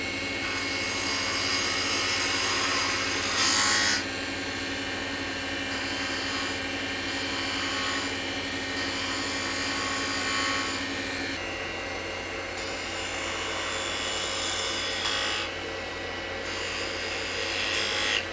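Wood lathe spinning with a steady hum while a gouge cuts the bottom of a turned snowman box, a continuous whirring cut with slight changes in tone, close and steady.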